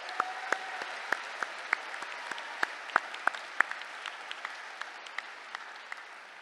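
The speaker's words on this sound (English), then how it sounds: "Please join me in recognizing their hard work and dedication with a round of applause" Sparse clapping from a commencement audience acknowledging faculty and staff, with scattered individual claps in an uneven rhythm rather than a full ovation, fairly distant and moderately quiet throughout.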